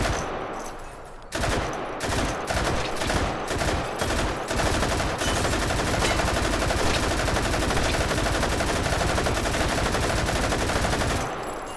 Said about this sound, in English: It is a light machine gun after all.